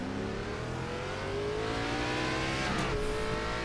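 A pack of NASCAR Gen 4 stock cars roaring off at the start at Kern County in iRacing, engines droning and rising steadily in pitch as they accelerate together, loud and continuous.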